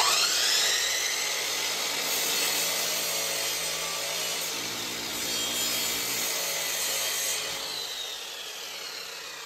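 A compound saw whines steadily as it cuts through wood, a loud, high grinding that holds for several seconds, then gradually fades.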